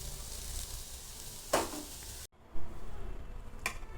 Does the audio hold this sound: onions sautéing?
yes